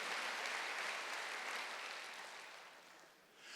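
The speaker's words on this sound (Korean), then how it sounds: "박수 한번 쳐봐요" Church congregation at a Wednesday worship service clapping together, a soft, distant wash of steady applause that gradually fades toward the end.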